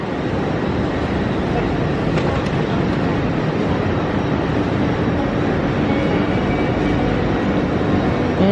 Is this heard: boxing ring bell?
no